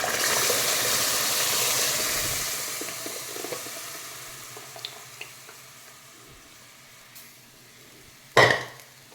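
Tomato thokku cooks in a pan with a sizzle that starts loud and fades gradually, with scattered small pops and bubbling and one sharp scrape of stirring near the end.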